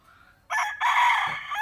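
A young rooster, a Super Andre White brood stag, lets out one loud, close crow on a farm. The crow starts abruptly, breaks briefly after its opening note, then holds a strained, drawn-out call that lasts about a second.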